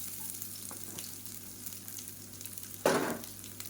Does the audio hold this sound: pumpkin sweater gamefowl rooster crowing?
no